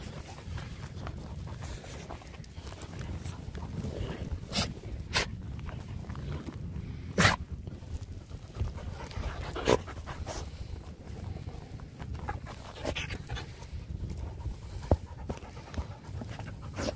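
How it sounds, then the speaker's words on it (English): Dog panting steadily near a lake on a cold winter day, a continuous soft huffing close by with a few sharp clicks and bumps scattered through it, no talking. "Pet the dog."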